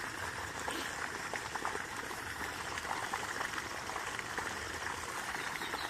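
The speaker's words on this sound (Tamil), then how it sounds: "இப்போ தண்ணி எடுத்துகிட்ருக்குறோம், பாஞ்சிட்ருக்குது." Water flows steadily into a rice paddy field, a continuous, even rushing and gurgling that holds at a moderate level without pause.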